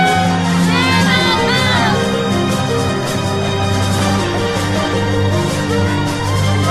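Large festive crowd at the China Cup international sailing regatta village in Shenzhen, a loud continuous wash of cheering voices and shouts with a steady low hum beneath and a few whoops rising near the start.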